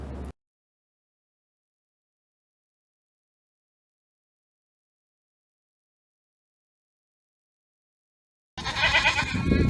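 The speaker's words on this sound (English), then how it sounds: "The goats are taking over," Goats bleat while roaming the deserted streets of a town in Wales, loud close cries that burst in after a long stretch of silence.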